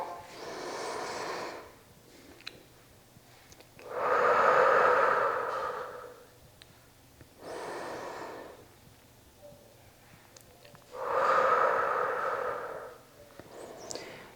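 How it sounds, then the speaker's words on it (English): Slow box breathing during a flexibility and mermaid-tail stretch, heard as two pairs of long, loud, breathy inhales and exhales in an even paced rhythm, close to the microphone with no talking. "take 2 box breaths here as well"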